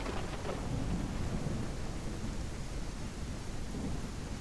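A thunderstorm in a survival game fills the scene with dense, steady rain hiss and a deep, continuous rumble of thunder rolling underneath, loud and unbroken from start to finish.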